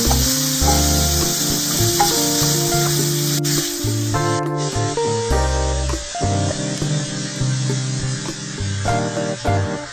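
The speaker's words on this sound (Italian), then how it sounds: "Rosoliamo poi la salsiccia fino a quando imbrunisce e sfumiamo con mezzo bicchiere di vino bianco." Sausage browning in a pan and deglazed with white wine, for pasta alla boscaiola, gives a loud, continuous frying sizzle with a brief surge of hissing, heard alongside background music.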